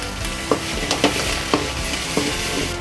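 Egg being stirred and fried in a pan for chicken fried rice, a steady sizzle under a spatula scraping at a brisk, regular pace, with sharp clinks roughly every half second, close and fairly loud, no voices.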